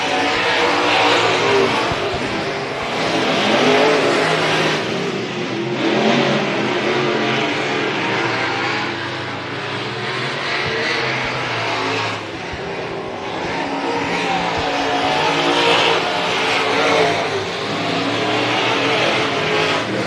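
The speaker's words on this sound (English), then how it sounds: "Blake Adams still running up front, followed behind by the 45 Bob Rolking" Race cars roar around the Hibbing Speedway oval during a weekly racing event, engines loud and continuous for the full stretch, swelling and easing as the cars pass, with no talk over them.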